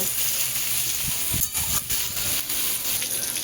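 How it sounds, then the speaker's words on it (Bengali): Potato and pointed gourd fry in hot oil in a home kitchen, giving a loud, continuous broadband hiss and sizzle. A few brief soft clatters sound under the hiss, and no voices are heard. "আলু পটলটাকে দিয়েছি এইবার এই তেলের মধ্যে একটু ভাজা ভাজা করব"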